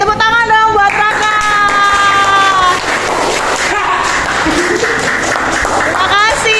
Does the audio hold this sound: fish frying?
no